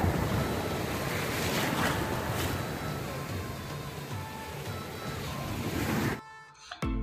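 Ocean waves at Perupalem beach with coconut palms along the shore, steady loud surf washing in with wind buffeting the microphone, cutting off near the end.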